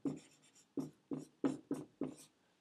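A pen or marker writes a letter on a board in six quick, separate strokes, each a short scratchy burst with brief pauses between, close and fairly quiet, with no talking.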